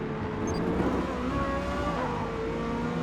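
A stock Ferrari V8 with no exhaust upgrades drones steadily in Forza Motorsport, racing in the rain, holding a sustained mid-loud engine note with slowly shifting pitch and no talk over it.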